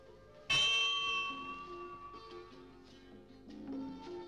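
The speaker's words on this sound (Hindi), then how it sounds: "घंटी बुला रही है।" A bell rings once with a sharp bright strike, its metallic tone ringing on and slowly decaying, with a fainter tonal sound rising near the end.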